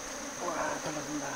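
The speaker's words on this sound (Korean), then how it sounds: "꿀벌들이 삽시간에 한 20, 30여 마리가 달라붙어서 열공을 만들기 시작합니다" Honey bees swarm a hornet placed at the front of their hive, making a steady, faint buzzing drone that swells slightly midway, with no voices.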